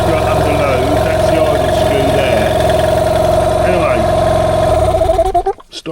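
A Yamaha 15 hp two-stroke outboard motor idles steadily with a loud, even mechanical drone, then cuts out near the end and the sound dies away.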